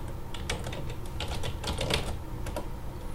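Rapid keystrokes on a computer keyboard as an email address is entered, an irregular run of close, crisp clicks with no voice over them.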